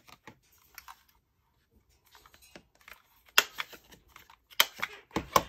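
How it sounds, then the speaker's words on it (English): Scissors cut through paper ephemera in a string of crisp, close snips and clicks. Quiet gaps separate the early cuts, then a few louder, sharper snips come near the end. "I'm just going to cut it down to be right here."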